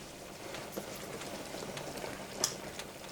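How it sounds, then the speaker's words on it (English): Canned vegetable soup with okra simmering in a pot on medium heat, a quiet steady bubbling with scattered small pops and ticks, no voices. "my soup has been cooking on medium for about 15 minutes"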